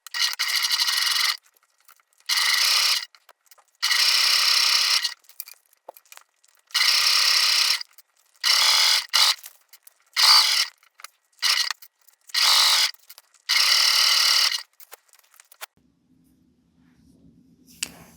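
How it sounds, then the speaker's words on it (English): A sewing machine stitching the strap of a crossbody phone sling bag, running in loud rapid bursts of a few seconds each separated by short silent pauses, with faint handling noise near the end. "Okay, let's go sew it up."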